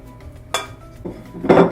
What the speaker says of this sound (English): So I'm gonna add it to our mixer here.